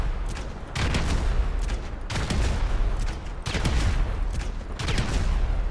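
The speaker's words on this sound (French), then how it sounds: "Donc je tire les 18 balles." Rapid gunfire in GTA Online, an in-game weapon firing 18 rounds in several loud, dense bursts separated by brief gaps, with no talk.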